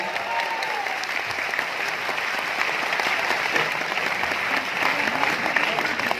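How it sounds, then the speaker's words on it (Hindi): An audience at a direct-selling celebration event in Udaipur applauds a speaker, with dense, sustained clapping from many hands at steady volume and a faint whistle-like tone briefly near the start. "उतने जोश से आपकी तालियों से हम धन्यवाद करेंगे"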